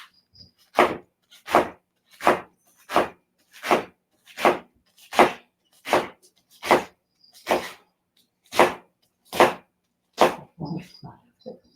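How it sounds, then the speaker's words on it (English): A knife chops rolled-up cabbage into chiffonade on a cutting board, making a steady series of about a dozen crisp, evenly spaced thunks close by, ending with a few quicker, lighter cuts. "So now we're going to roll this up so we can make a nice chiffonade."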